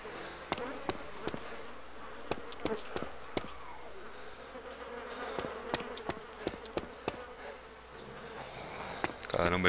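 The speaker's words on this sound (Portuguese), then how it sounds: "várias pessoas morreram aqui porque tô ouvindo um monte de mosca" A swarm of flies buzzes steadily inside a school building in the video game ArmA 2 DayZ, a continuous insect drone broken by sharp clicks and footstep-like thumps.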